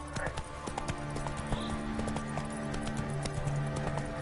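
The horse Roach gallops in a video game, a quick steady clip-clop of hooves, close and continuous, over faint background sound.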